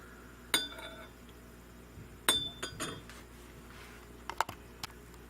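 Caramel ice cream topping and apple juice being stirred together, a few sharp clinks of a utensil against a glass or metal container spaced over a few seconds, with faint soft mixing sounds between.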